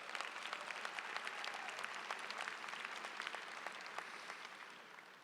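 An audience at a 2016 high school graduation applauds for seniors' scholarship achievements, a dense, even patter of many hands clapping that stays steady, then slowly tapers toward the end.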